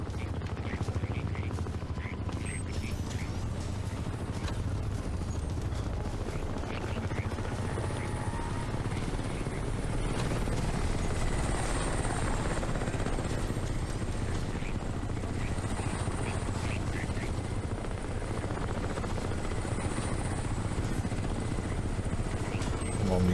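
A helicopter's rotor drones steadily throughout in Crysis Remastered, with scattered bursts of gunfire and game sounds mixed in.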